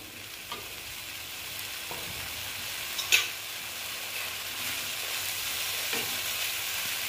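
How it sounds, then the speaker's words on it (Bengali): Spices sizzling and frying in a pan with a splash of water for paneer bharta, a soft continuous hiss with a few small pops and a faint scrape of stirring, close and without speech. "এবার এটা আর একটু ভালো মতন ভেজে নেব।"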